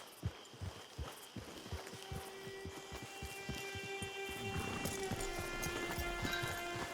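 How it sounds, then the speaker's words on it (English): Horse hooves clip-clop in a steady rhythmic gait in the video game Red Dead Online. The trotting beats are fairly faint and come with a sustained musical drone and ambient background sound, and no one speaks. "Get your horse."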